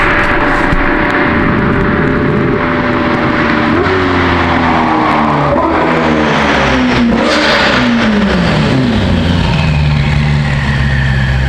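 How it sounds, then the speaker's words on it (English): Modified Ferrari F8 Tributo with wheels, exhaust and tune upgrades revving hard, its loud engine note sweeping up and down through several gear pulls with audible turbo whistle, close and continuous with no talking. "You can hear that turbo too."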